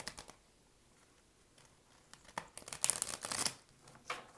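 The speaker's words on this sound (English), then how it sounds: "These cards are harder to shuffle because it's a new deck." A new deck of cards is shuffled close up, with faint taps and riffles that build to a brisk crackling riffle and a few soft flicks as the cards settle, recorded quietly with no speech.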